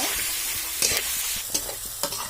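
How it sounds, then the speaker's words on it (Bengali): Chopped onions frying in a pan with cloves and cardamom, a steady close sizzle with a few sharp spatter pops and scrapes of stirring, no voices. "তো ভালো করে পেঁয়াজগুলো একটু ভেজে নিব"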